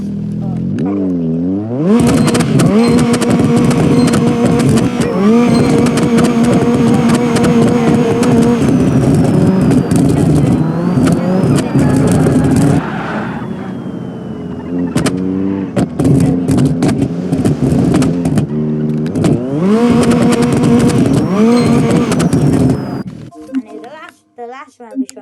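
A Toyota AE86 Levin in BeamNG.Drive revs and accelerates, its engine note climbing and falling through gear changes, loud and continuous with scraping clatter near the end; a voice talks alongside.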